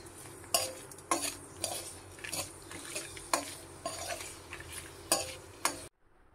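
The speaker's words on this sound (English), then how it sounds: "Now take amla pieces and fry it" Amla pieces fry with salt in a pan while a spoon stirs them, producing regular sharp scraping clinks about every half second over a light sizzle, close and clear, ending abruptly in silence.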